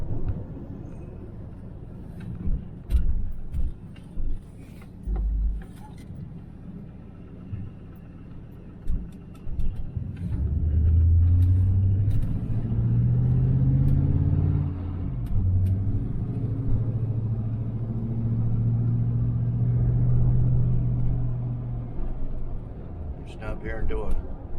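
A 1968 Chevelle Nomad engine rumbling deep and steady while driving, swelling louder midway as it pulls through a U-turn, with someone talking over it at times.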